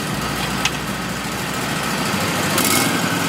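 The engine of an Exmark or John Deere walk-behind mower drones loudly and steadily at a trade expo as it is throttled up, with no talk over the continuous hum.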